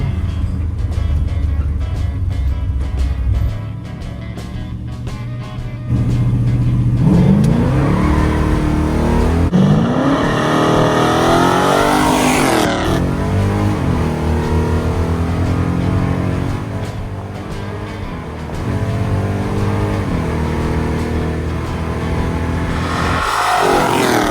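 Car launching hard on a quarter-mile drag run, loud close engine roar climbing through gears with audible shifts, building over about twenty seconds with no talking.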